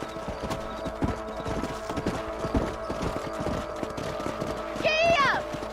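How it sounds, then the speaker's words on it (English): Horse hooves clip-clop steadily in the Red Dead Redemption video game, a continuous rhythmic trot under game ambience, with a horse whinny rising near the end. "Let's get back on the horses and see what else is going on."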